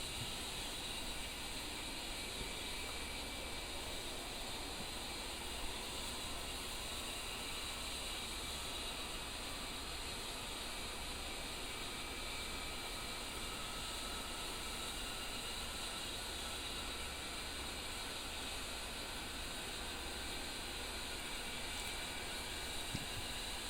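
The right engine of an A-10C attack jet starts up in the DCS flight simulator: a steady, airy hiss with a faint whine that slowly climbs in pitch as it spools up, with no talking.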